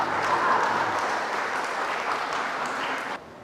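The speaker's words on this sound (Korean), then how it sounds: "박수 한번 쳐주세요." Audience applause fills a church, a steady dense clapping held for about three seconds before cutting off abruptly, with no voices over it.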